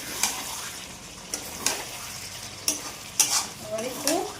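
Chicken kosha meat is stirred and fried in a pan, with steady sizzling broken by several sharp spoon scrapes and clanks against the metal, close by and fairly loud.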